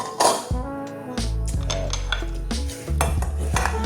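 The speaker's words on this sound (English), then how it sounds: "we have this half stick of butter. And we're going to be putting it in this pan" Half a stick of butter goes into a metal pan for brownies, sharp clanks and clinks of cookware and utensils with a scraping rattle, close and fairly loud.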